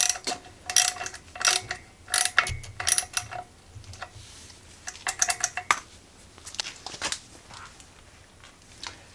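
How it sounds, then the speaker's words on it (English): Ratchet snugging a bolt on a Fuji F500K bottom end for a 1970s Indian ME100 motorcycle, bursts of quick metallic clicking strokes with short pauses between, close and clear with no talking. "And this bolt, nothing crazy, just snug it up."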